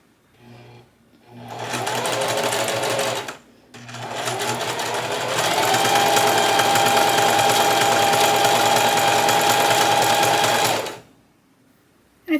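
A sewing machine stitches the neck band onto a t-shirt in two close, loud runs of steady motor whir, a brief pause between them and a longer second run that stops cleanly.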